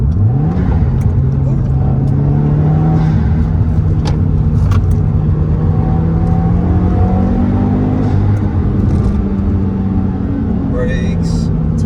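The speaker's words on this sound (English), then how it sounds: "even though the turbo is lagging, you can definitely hear it." A Subaru WRX turbo engine accelerates on a test drive, a loud, steady interior drone rising in pitch through the gears, heard under continuous talking.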